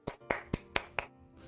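Five sharp hand claps in an irregular rhythm, fairly close and moderately loud, followed by a brief quiet tail; no talking over them.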